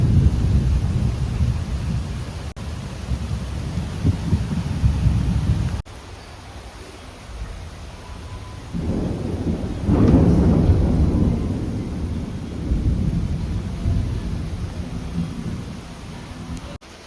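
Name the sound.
heavy rain with thunder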